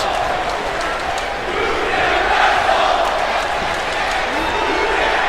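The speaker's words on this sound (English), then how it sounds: "Now the crowd pulling no punches against the woman who just betrayed their trust." Arena crowd at a wrestling match in WWE 2K, a dense roar of yelling and jeering that swells midway and holds steady throughout.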